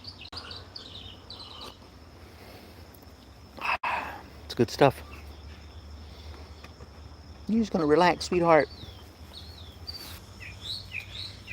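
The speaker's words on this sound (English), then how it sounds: "Hear all those birds?" Backyard birds chirping in short scattered calls, faint and distant against a steady insect hum, with someone talking softly over them in bursts.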